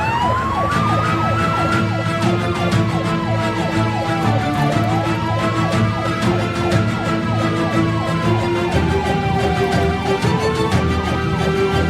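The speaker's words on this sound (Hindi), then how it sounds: "एम्बुलेंस।" An ambulance siren wails loud and close in a continuous rising and falling sweep, repeating steadily for the whole stretch with no pauses or talk.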